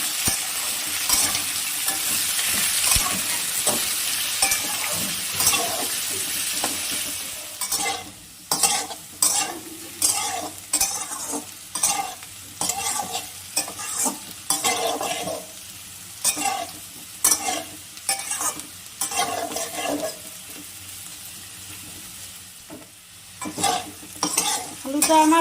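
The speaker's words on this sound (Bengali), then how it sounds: "এই আলুগুলোকে আমি একটু লাল করে ভেজে নেব।" Potatoes frying and being stirred in a pan for aloo posto, a steady sizzle broken by repeated scraping stirs, close and fairly loud with no talking.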